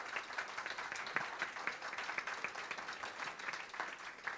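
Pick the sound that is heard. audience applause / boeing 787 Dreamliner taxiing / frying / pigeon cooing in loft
audience applause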